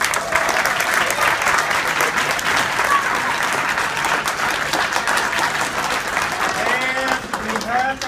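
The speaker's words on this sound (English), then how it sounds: "let's have another big hand for our performers" An audience at a fifth grade school winter concert claps in sustained, dense applause for the performers, with crowd noise and some voices mixed in throughout.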